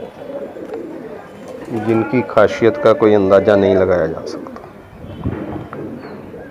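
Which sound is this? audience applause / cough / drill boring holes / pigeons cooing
pigeons cooing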